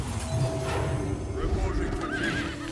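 A horse neighs and whinnies in the Hearthstone card game, a loud, wavering cry rising over busy game sounds and hoof-like clatter, with a voice talking underneath.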